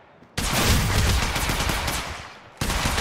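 Rapid automatic gunfire bursts from a firefight in the mobile battle royale game Apex Legends Mobile, loud and dense, running nearly continuously with a brief gap before another burst.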